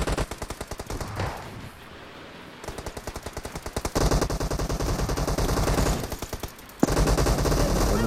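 Rapid automatic gunfire fills a video game match, fast machine-gun bursts rattling close and loud with a brief pause before the firing resumes harder.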